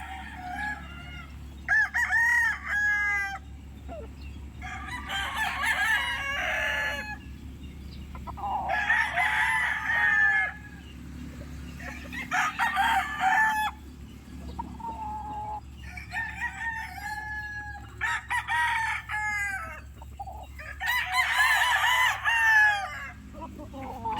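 A honey white gamecock rooster crows repeatedly, about seven loud, clear calls spaced a few seconds apart, with faint background noise between them.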